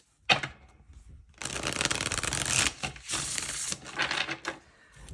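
A deck of tarot cards is shuffled by hand in several close, crisp bursts of riffling with short pauses between them, and no talking over it.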